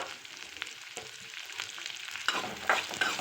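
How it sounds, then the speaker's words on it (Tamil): Onion and roughly 20 halved garlic cloves sautéing in a pan for Tirunelveli-style sundakkai kulambu, with a soft steady sizzle and intermittent stirring scrapes that grow busier toward the end. "வெங்காயமும் பூண்டும் நல்லா வணங்கட்டும்"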